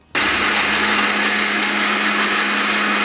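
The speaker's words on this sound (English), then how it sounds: "now all we have to do is blend all this up" A kitchen blender purees wet ingredients for a vegan roast, switching on abruptly after a moment of quiet and running as a loud, steady, high whir for about three seconds.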